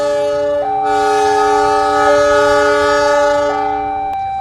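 A locomotive shunting a newly built KRL electric train set in Probolinggo sounds a long, loud, steady multi-tone horn blast of about three and a half seconds, close by, before it cuts off.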